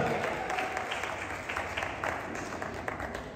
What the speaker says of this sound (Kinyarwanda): Protocol reka dusabe Eric Kiki atubwira gukomera Imana amashyi cyane.